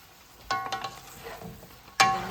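Cooked noodles for beef lo mein being stir-fried in a pan, with a soft sizzle and two sharp scraping tosses of the utensil about a second and a half apart.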